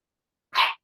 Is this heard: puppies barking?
yes